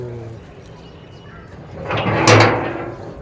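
A door at home is pushed open, a short scraping, rattling sweep that swells and then fades, with voices nearby.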